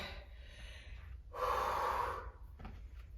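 Heavy breathing after a bodyweight workout: faint huffs and breaths, then one long, forceful exhale in the middle, followed by quieter breaths settling down.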